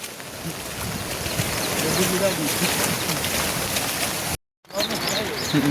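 Floodwater from a swollen river in Panderi village, Konkan, pours over a field embankment into farmland, a steady broadband rush that stays loud throughout, briefly cut out near the end, with people talking over it.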